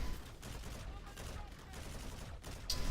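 Fully automatic assault rifle fire in the Infinite Warfare shooter, a dense, busy stretch of rapid shots and battle noise that stays fairly steady, with a voice talking over part of it.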